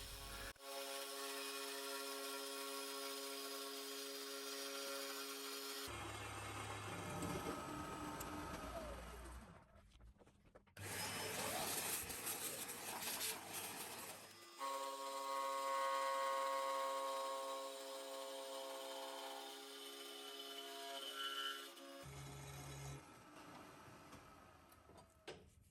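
A milling machine's 5/16 end mill cuts an angle on a bar clamped in a swivelled vise, a steady whine with harmonic bands running in long passes, broken by short gaps and lower-pitched stretches.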